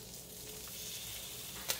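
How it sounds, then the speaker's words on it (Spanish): Ham rolls stuffed with cream cheese frying on a very low flame, giving a steady soft sizzle throughout with one brief sharper crackle near the end; no one speaks. "Y aquí los voy a dejar a que dé una doradita a flama muy bajita."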